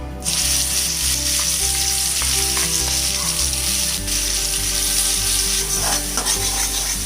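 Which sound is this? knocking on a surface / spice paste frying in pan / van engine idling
spice paste frying in pan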